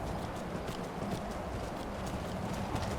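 A horse walks across ice in the game Skyrim, its hooves clip-clopping in a steady, even rhythm at moderate loudness over a constant noisy backdrop, with no voices.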